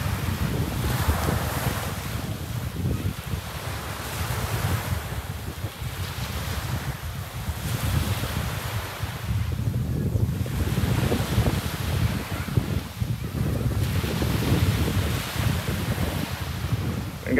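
Wind and ocean surf at Boracay beach at high tide, a steady loud wash of waves with gusting wind buffeting the microphone throughout.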